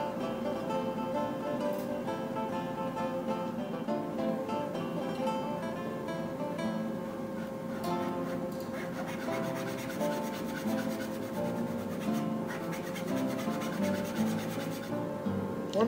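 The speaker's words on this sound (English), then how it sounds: "an easy way to cut it is in a miter box." A hand saw cuts through plywood held in a miter box, making a steady, continuous rasping scrape that runs close and fairly loud for the whole stretch, with no one speaking.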